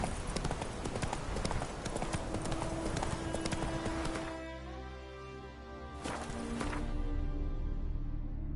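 A horse galloping in the video game The Witcher 3: steady, fast clip-clop hoofbeats that continue throughout, loud and close, easing briefly before picking up again.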